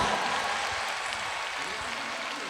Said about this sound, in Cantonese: 俾多啲掌聲，我哋嘅 dancers 同埋我哋嘅樂手